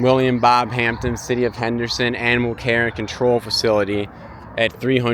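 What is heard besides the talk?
No distinct noise like a dog, phone or traffic.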